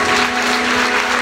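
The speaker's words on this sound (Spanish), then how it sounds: "¿Cuántos le aplauden a su Rey y a su Jesús?" A church congregation applauds in a loud, dense, continuous burst of clapping that fills the room, with a steady sustained tone running underneath it.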